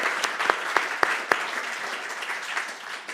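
Audience applause at a live panel talk, steady clapping from a room full of people with a few sharper claps standing out, moderately distant and continuing for several seconds without a break.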